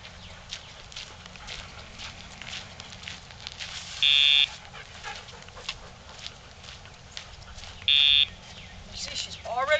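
A Dogtra e-collar pager tone sounds twice, short electronic buzzes several seconds apart, over outdoor footsteps and rustling while a Golden Retriever is trained.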